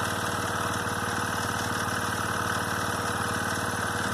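A green 2002 Arctic Cat 375 4x4 ATV with a new carburetor runs at a steady idle, its close engine chugging in an even rapid pulse with a slight rattle, no talking.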